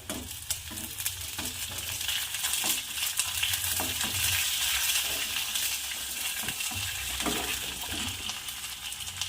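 Curry leaves and long-cut green chillies tossed into hot oil with browned onions for savoury sevai upma produce a close, steady sizzle with metallic stirring clinks and scrapes, no voices.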